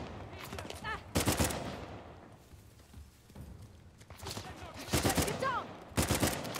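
Bursts of automatic gunfire ring out in the action game Uncharted: The Lost Legacy, arriving in three separate loud volleys with quieter stretches between them, a few whizzing ricochet-like tones mixed in.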